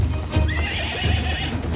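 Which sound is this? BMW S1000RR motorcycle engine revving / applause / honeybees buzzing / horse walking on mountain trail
horse walking on mountain trail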